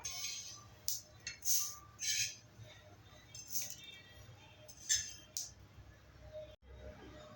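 Roasted flaxseed poured from a pan onto a plate for chutney, giving scattered light clinks and soft rattling bursts of small seeds over a quiet low hum.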